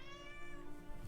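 A cat meows with a tonal, harmonic cry lasting about a second, moderately close and fairly faint over a steady background hum.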